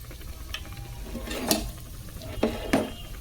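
Mirchi bajji, batter-coated chilli fritters, frying in hot oil, with a soft steady bubbling bed broken by a few sharp scrapes and clinks of a utensil against the pan, close by and moderately loud.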